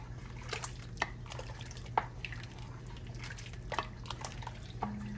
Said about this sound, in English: I'm going to put a little bit more water in here.